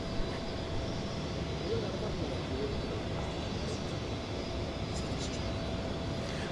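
An airliner approaches DFW Airport, a broad, steady roar of jet engines with a faint high whine, continuous and moderately distant.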